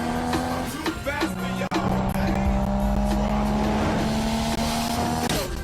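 A Nissan Skyline R34 ER34 25GT engine hums steadily up close, with brief rattles and squeaks over the drone.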